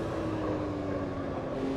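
A race car engine in the Automobilista 2 sim racing game holds a high, steady revving whine near 9,000 RPM. The tone sits loud and forward, with a slight rumble beneath and no talk.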